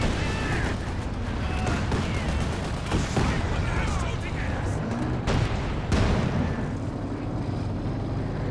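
Land Mattress rocket artillery and gunfire in a Company of Heroes 2 battle: dense overlapping bursts, sharp cracks and booming impacts in rapid irregular succession, with several loud heavy blasts standing out amid continuous rattling fire.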